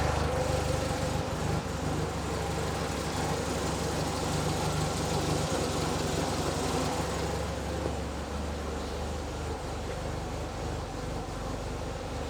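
Porsche 924 engine idling steadily during idle adjustment, a continuous close rumble with a faint ticking texture and no breaks throughout.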